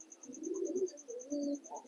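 Yellow and red American fantail pigeons coo softly in a few low, throaty murmurs, faint and close, with a steady high-pitched electronic beep repeating in the background.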